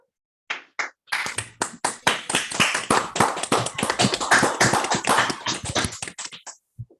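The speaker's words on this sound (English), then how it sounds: "So let us all unmute and clap" Online audience unmuting after a physics talk and applauding together, a dense burst of many hands clapping that starts abruptly, holds steady for about six seconds, then thins out to a few last claps.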